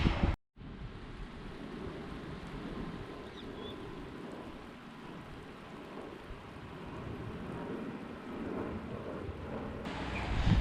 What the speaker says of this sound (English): So of course it's raining again.